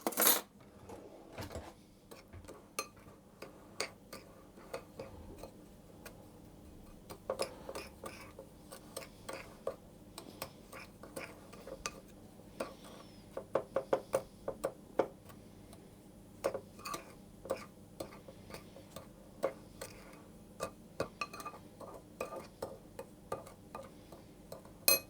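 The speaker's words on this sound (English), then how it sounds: "put my sugar for the cinnamon sugar and the cinnamon into a larger bowl, and I'm going to give those a mix around" Sugar and cinnamon are mixed in a larger bowl for cinnamon sugar, a run of quick, irregular light clicks and taps of utensil against bowl, close and fairly quiet, with no talk.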